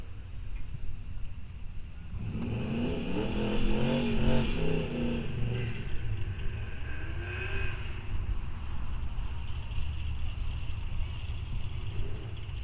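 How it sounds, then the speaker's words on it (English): Muscle cars at a Rock Falls Raceway fall drag racing event roar down the drag strip at full throttle, a loud sustained engine rumble swelling in after a quiet start, with rising revs and a steady mid-distance drone. "We want to see cars go down the track under full throttle."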